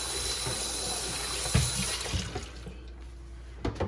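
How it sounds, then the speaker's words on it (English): Hot water running from a tap into a container, a steady close rushing fill that tapers off partway through into quieter splashes and clunks, no talking. "we're going to put some water in here"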